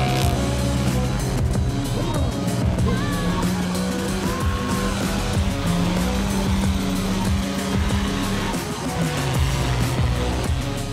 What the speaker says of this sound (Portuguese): Os primeiros a correr foram os quadriciclos,